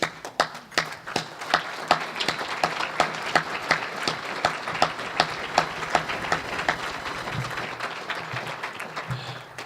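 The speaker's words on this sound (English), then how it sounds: "And my applause is to you." A dinner audience at a chamber of commerce event claps in a room, with distinct, fairly loud individual claps over a bed of scattered applause that continues steadily throughout.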